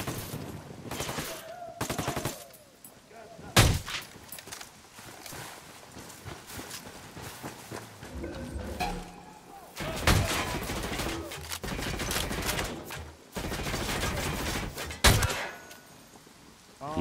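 Gunfire in the video game Ghost Recon Wildlands: loud, sharp shots and rapid bursts come in irregular clusters over a busy, continuous game soundscape, with the heaviest volleys near the start and again later on.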